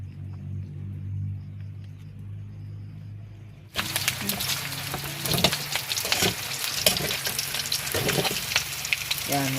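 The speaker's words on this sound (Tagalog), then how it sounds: "lutuin natin sa sarili niyang mantika" Pork frying in its own rendered fat, starting with a low rumbling hum, then suddenly bursting into a loud, close, crackling sizzle that continues steadily to the end.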